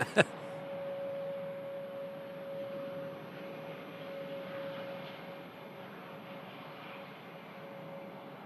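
An Airbus A319 arriving from London Heathrow at Manchester Airport gives a faint, steady engine drone with a thin sustained whine, heard from a distance and holding evenly throughout.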